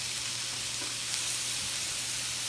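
Kebabs sizzling in a pan as they are turned, a steady, even frying hiss with a low hum underneath, close and alone without talk.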